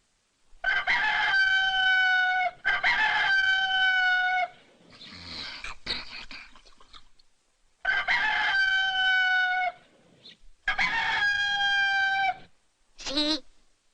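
Cartoon rooster-like crowing from a spring chicken, four loud drawn-out harmonic crows separated by brief scratchy clucking and rustle, ending in a short squawk, with no talk over it.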